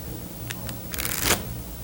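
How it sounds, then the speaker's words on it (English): A deck of playing cards is shuffled in a quick burst of riffling flutters that ends in a dense rush of snapping cards, close and clear over a quiet room. "I'll even give the deck a shuffle"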